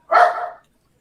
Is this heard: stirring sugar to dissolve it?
no